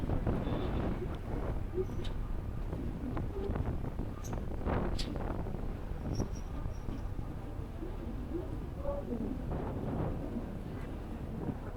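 Wind blowing outdoors at a work site, a constant loud rumbling buffet on the microphone with scattered faint clanks and knocks underneath.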